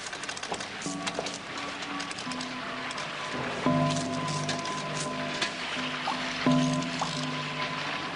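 Water drips steadily from a leak indoors into a bucket, each drop landing with a small plink in an uneven rhythm over a soft background hiss.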